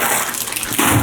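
Water pours into a portable shake container already holding blueberries and red berries, a short steady splashing gush that grows fuller toward the end.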